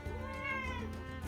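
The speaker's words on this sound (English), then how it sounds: "Oh, that's my cat." A cat lets out a single drawn-out, whiny meow, close and fairly quiet, heard on its own.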